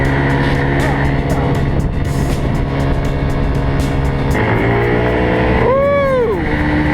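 An AR50cc moped fitted with a 44mm piston revs and accelerates close by, its engine note climbing in pitch toward the end over constant wind and motor rumble, with a person's voice heard briefly.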